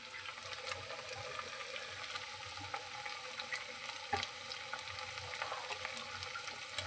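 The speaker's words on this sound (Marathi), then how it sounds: "साबुदाणे मस्त इथं तळत चाललेलं आहे." Sabudana vada fry in hot oil in a home kitchen, giving a continuous close crackling sizzle with scattered sharp pops and no talking.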